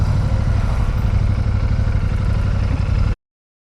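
A motorcycle engine held at full throttle, a steady loud rumbling roar that runs unbroken for about three seconds near the listener before cutting off abruptly into silence.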